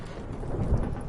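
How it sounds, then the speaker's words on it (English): Stormy weather at sea in The Witcher 3: Hearts of Stone, with a low thunder rumble over steady rain, brief and fairly loud, no speech. "Didn't bargain for no storm."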